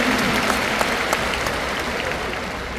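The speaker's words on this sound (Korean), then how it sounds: "하나님께 감사의 박수." A church congregation at a denominational anniversary gathering claps in steady, dense applause, a close, even wash of hands lasting a few seconds without speech.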